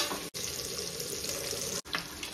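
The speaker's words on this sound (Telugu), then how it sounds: "అది ఇవన్నీ ఇలా మంచిగా అయితే ఫ్రై అయిపోతాయి." Onions, green chillies and curry leaves fry in a pan for chicken pulao, giving a steady close sizzle that cuts out twice for an instant, with no talking.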